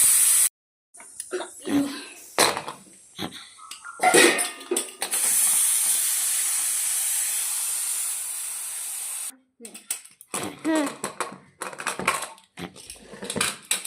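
A pressure cooker on a gas stove cooking a soybean curry lets out a long steady hiss of steam from its whistle for several seconds, bracketed by kitchen clatter and a person speaking before and after.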